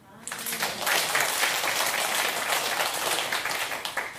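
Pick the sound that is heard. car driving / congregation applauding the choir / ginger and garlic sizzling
congregation applauding the choir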